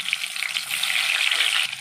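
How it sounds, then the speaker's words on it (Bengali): Potatoes frying in oil in a pan while chicken biryani is being prepared, giving a steady close hiss of sizzling with light bubbling throughout, no voices. "ওই তেলে আলুগুলো দিয়ে দিচ্ছি ভাজার জন্য।"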